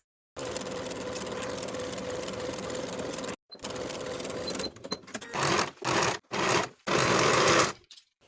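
A sewing machine runs a long steady stitch along a blouse sleeve seam, then stops and starts in several shorter bursts, loud and close with no talking.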